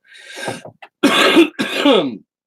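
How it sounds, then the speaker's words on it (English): A person coughs in three harsh, close bursts, the last two long and rasping, with a short throat-clearing sound between them. "I will. As soon as I'm done coughing."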